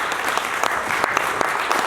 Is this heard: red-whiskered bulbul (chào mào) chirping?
no